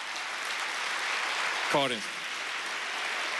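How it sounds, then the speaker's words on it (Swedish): Broad, steady applause fills a church hall, sustained and fairly even throughout, with a voice briefly speaking over it. "Ge dem en riktig applåd."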